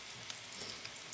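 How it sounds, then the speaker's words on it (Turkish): Meatballs fry in a pan with a soft, steady sizzle and faint crackles, quiet and close, with no talking. "Birazını yemek yapacağım. Birazını da kızartıyorum."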